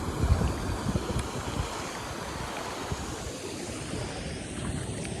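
Continuous rushing of floodwater through farm fields after heavy rain, a broad steady roar like a fast flow surging past, mixed with some wind noise.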